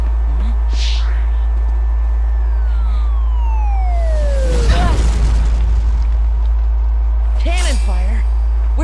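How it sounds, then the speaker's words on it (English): Cannon fire over open water in the Kingdom Hearts Birth By Sleep video game, a single heavy boom landing mid-clip amid whistling game effects and music, with a voice talking around it. "Cannon fire? Where's it coming from?"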